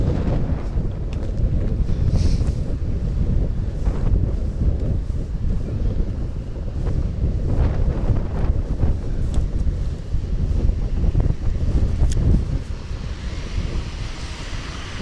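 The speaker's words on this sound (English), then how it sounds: "The wind is too strong." Strong wind buffets the microphone beside a windmill in Japan, a steady loud roar with gusting surges throughout and no voices.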